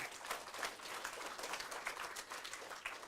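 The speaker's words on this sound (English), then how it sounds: "Let's give Courts a round of applause." Audience applause for corporate partner Courts at a reading competition event, a steady wash of many hands clapping at moderate, slightly distant level for about three seconds.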